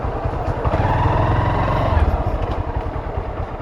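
A motorcycle engine runs steadily throughout, a close, rumbling putter with a faint metallic clatter, and voices murmur faintly in the background.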